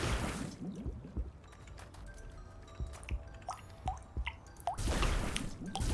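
In the video game Wytchwood, water is collected from a well: a burst of splashing, then scattered drips and watery plinks echoing, then a second splash at the end.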